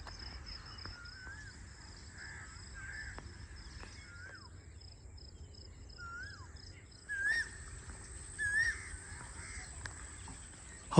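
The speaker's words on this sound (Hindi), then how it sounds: "हम खामोशी से कोयल की आवाज़ सुन रहे थे" Several faint rising, whistled calls from an Asian koel sound in a quiet Pakistani village, repeated at intervals and growing a little louder toward the end amid soft background noise.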